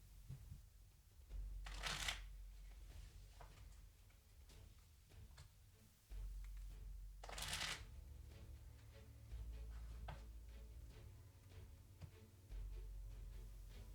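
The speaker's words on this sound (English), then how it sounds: "Let's go ahead and shuffle our cards up and draw for initiative." Playing cards are shuffled up close, with two bursts of riffling and scattered soft card taps and snaps in a quiet room.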